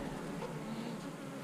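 Honey bees swarm and drone steadily around a nuc hive frame, a continuous close, even insect buzz with no voices.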